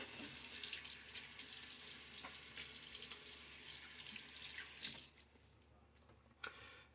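Tap water runs steadily into a sink during a wet shave with a Blackland Osprey razor, a continuous splashing hiss that cuts off abruptly near the end, leaving a few drips and small clicks.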